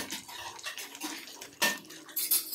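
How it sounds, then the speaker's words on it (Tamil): Cooked fish for fish curry lifted out and set onto a plate, a string of close metallic clinks and scrapes of a utensil against dishes, ending in a few sharper clatters. "தனியாக எடுத்து ஒரு தட்டில் போட்டுக்கிட்டு இருக்கிறாங்க."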